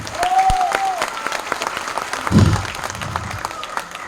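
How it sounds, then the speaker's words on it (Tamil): Audience clapping at a Tamil film event, moderately loud and steady, with a brief low thump and some tonal ringing or feedback mixed in. "அவனுக்கு ஒரு பலத்த கரகோஷம் கொடுங்க"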